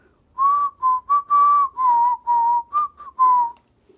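A person whistles a short tune of about eight clear notes, close and alone, with brief gaps between them.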